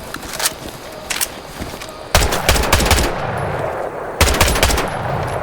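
Bursts of automatic gunfire in Hell Let Loose Vietnam, loud and close, with short rapid volleys separated by brief pauses and a sustained crackling run in the middle.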